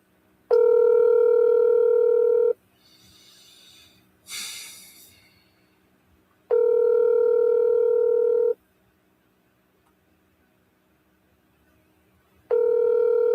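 Outgoing phone call ringback tone in long steady two-second pulses separated by silence, three rings in all, with a short breathy noise between the first two.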